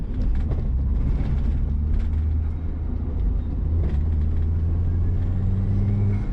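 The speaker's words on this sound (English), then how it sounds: "Oh, that turbo, it just sounds so good." A turbocharged car accelerating on the road, heard from inside as a loud, steady low engine drone with rumble and a rising whine, no talk.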